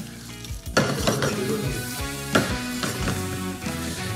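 Noodles with pork are stirred in a pan through a thick cornflour sauce, giving a close, wet sizzle with repeated scraping and clinks of a utensil against the pan, and no voices.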